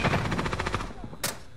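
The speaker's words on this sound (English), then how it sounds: "I'm under fire!" Rapid bursts of automatic gunfire in Call of Duty Warzone, a fast rhythmic volley of shots for most of the moment followed by a sharp louder blast near the end.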